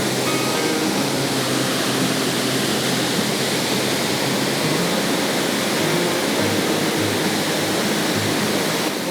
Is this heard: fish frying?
no